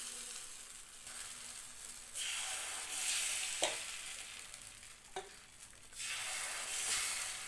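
Appam batter poured into the cavities of an appam pan, sizzling and hissing in soft swelling waves with a couple of faint metallic taps, fairly quiet and close, no voices.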